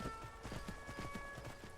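Horse hooves clip-clopping in Skyrim, a quick run of close, even thuds at a brisk trot over steady background ambience.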